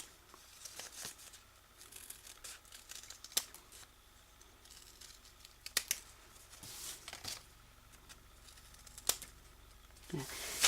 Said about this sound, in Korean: 지금 큰 꽃이 여기가 좀 조금 모자라니까 조금 더 잘라 보겠습니다